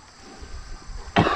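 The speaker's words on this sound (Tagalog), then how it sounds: "Umagang umaga, inuubo pa rin." A single sharp cough bursts out near the end after a stretch of quiet rumbling background noise.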